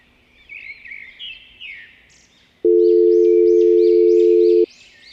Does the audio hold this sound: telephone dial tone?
yes